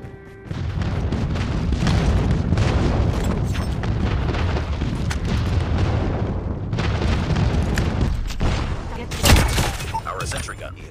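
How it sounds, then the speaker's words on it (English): Friendly airstrike explosions in a video game pound away continuously, with dense, loud booming and rumbling lasting throughout. A sharper blast lands near the end. Game voice lines can be heard over the barrage. "Friendly airstrike incoming."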